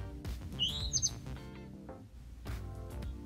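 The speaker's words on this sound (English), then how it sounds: "when your watch marks the hour, it will sound like this with birds" An Apple Watch hourly chime set to the birds sound: a few quick synthetic bird chirps and tweets over soft background music, light and fairly faint.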